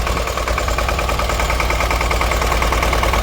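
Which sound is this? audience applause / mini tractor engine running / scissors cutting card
mini tractor engine running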